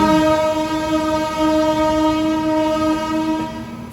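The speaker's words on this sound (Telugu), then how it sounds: "మన పక్క ట్రాక్లోకి ఒక ట్రైన్ అయితే వస్తుంది" A train arriving on the adjacent track at an Indian railway line sounds a loud, sustained, tonal horn that holds steady, then eases slightly toward the end over a low rumble.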